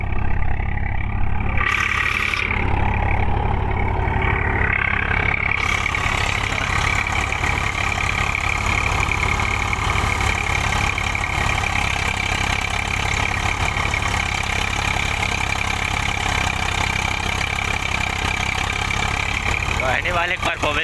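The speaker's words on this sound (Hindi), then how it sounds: "ये देखो भाई ट्रैक्टर का परफॉर्मेंस देखो," Swaraj 744 tractor engine running steadily in a paddy field during rice puddling, a continuous loud diesel drone throughout with a brief change in the opening seconds, with people talking over it.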